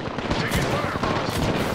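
Dense, rapid automatic gunfire crackles continuously in the Apex Legends battle royale shooter, loud and close, with overlapping bursts and faint voices underneath.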